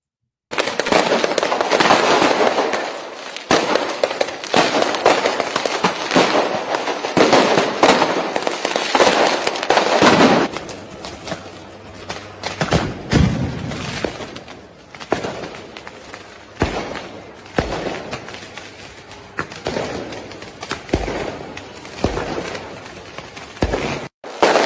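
Police fire tear gas and use a water cannon against protesters in Milan. Loud, sharp bangs and bursts come in rapid succession for the first ten seconds, then turn more scattered, with crowd and street noise between them.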